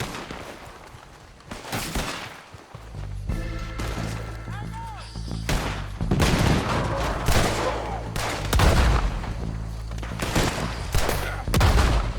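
Gunfire rings out in a shootout in Red Dead Redemption 2, with repeated shots and bursts cracking over a steady low rumble and intermittent shouting voices.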